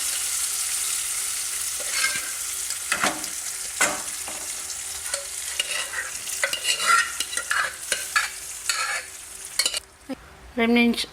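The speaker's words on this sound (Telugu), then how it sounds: "ఈ పోపు వేగిపోయింది. ఇందులో ఈ మెదిపిన ఈ మెంతిపప్పుని వేసుకుందాం." Mashed fenugreek dal stirred into a fried tempering of onion and garlic, Rayalaseema style, giving a close sizzle with repeated spoon scrapes and stirring knocks, ending in a few brief clinks.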